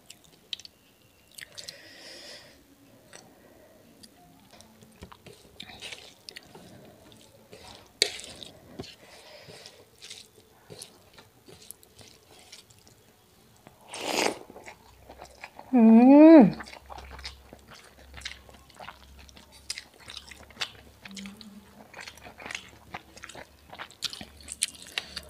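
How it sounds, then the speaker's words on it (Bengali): Someone eating a Bengali lunch of rice with katla fish curry, making soft, close, wet chewing and biting sounds that keep up throughout, with a brief louder rustle and a short stretch of voice midway. "এবার খাবো কাতলা মাছের ঝোল দিয়ে।"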